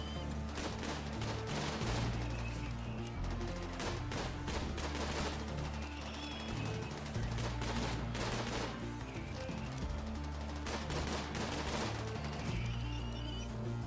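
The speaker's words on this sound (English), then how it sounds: "Good, they shoot at Kim." Steady volleys of gunfire aimed at a character named Kim in the game Imps versus Zombies rattle in repeated sharp bursts over a loud looping musical background, fairly faint in the mix.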